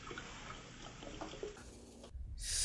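Water and 2% milk poured into a milk pan for chai, a steady close splashing pour that runs on, breaks off briefly, then resumes with a brighter, louder rush.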